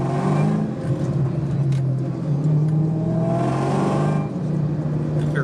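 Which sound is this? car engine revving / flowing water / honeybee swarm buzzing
car engine revving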